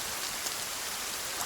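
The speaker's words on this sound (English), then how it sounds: "yet it still sounds like it's raining" Steady rain in the survival video game Sons of the Forest, an even wash of falling drops that fills the whole clip at a constant, moderate level with no voices.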